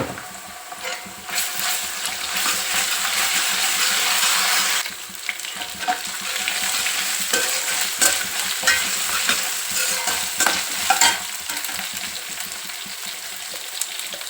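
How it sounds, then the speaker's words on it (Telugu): Onion and green chilli sizzle in a pan with ginger garlic paste while being stirred for a radish fry, a loud, continuous frying hiss with frequent scraping strokes across the whole stretch and no talk. "ఉల్లిపాయ పచ్చిమిర్చి వేగింది కదా. ఇప్పుడు జింజర్ గార్లిక్ పేస్ట్ 1 స్పూను"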